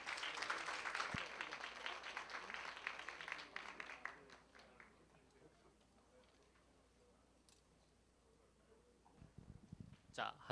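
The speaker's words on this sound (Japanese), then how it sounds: "皆様盛大な拍手でお迎えください。" Audience applause welcoming an ostrich-promoting speaker to the stage at a talk event, fairly loud at first, then thinning and fading under murmurs, with a few scattered claps returning near the end.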